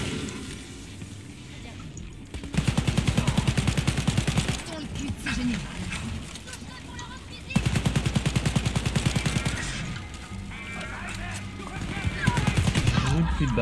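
Automatic gunfire in the video game Wolfenstein: Youngblood rattles in three long rapid bursts, loud and close, with brief lulls of game noise and voices in between.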